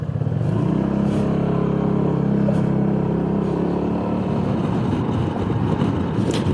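A Honda PCX150 scooter fitted with stiffer YSS suspension springs rides along, its engine droning steadily under loud, continuous road and wind rumble, close to the rider.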